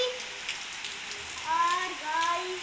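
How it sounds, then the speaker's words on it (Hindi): Rain that has been falling since morning, a soft steady patter outdoors, with faint voices and a few tonal squeaks or bird-like chirps over the wash of drops. "ये देखो बाहर का मौसम, बिल्कुल सुबह से बारिश होने में लगी है, अभी तक नहीं रुकी।"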